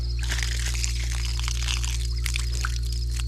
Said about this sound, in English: Now the last test is we got to get most all the water out.